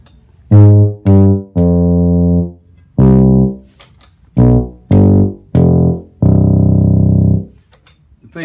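Moog Taurus bass pedal synthesizer voiced as a tuba, playing a series of short, loud, buzzy low notes with gaps between them, close and alone.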